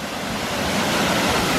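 A waterfall at Cannock Chase roars as a dense, steady rush of falling water, loud and close with no voices.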